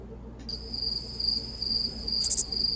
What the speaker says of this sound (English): I hear a cricket. I could hear a cricket when that happened.